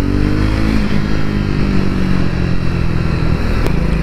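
A Triumph Scrambler 400X single-cylinder motorcycle engine pulls hard under acceleration, a loud, steady close-up roar with rising engine tones and some rattle and wind over the whole stretch.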